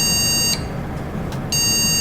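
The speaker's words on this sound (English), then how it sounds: "in case an error occurs, or maybe one of your devices is working incorrectly, a beep sound is produced." Loud electronic error beeps from a computer's power-on self-test, two sustained high tones separated by a short gap, heard alone without any talking.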